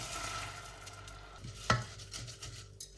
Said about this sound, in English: I have rinsed my rice, and it says to cook it in nothing but 2 tablespoons of melted butter